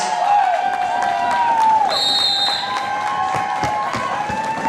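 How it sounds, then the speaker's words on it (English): Crowd at a roller derby bout cheering and clapping, a sustained loud wash of noise with whistles and shouts, plus a bright tone near the middle that fades. "give all of these girls a big round of applause, make some noise!"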